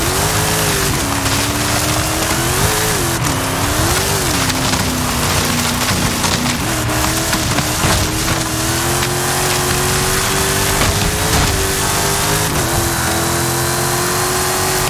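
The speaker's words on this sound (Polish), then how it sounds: "Pojedziemy sobie na przełaj, bo to jest samochód przełajowy" An off-road car in Forza Horizon 5 drives cross-country, its engine droning loudly and steadily with rising and falling revs under constant rumbling and crunching of rough terrain, with no talk.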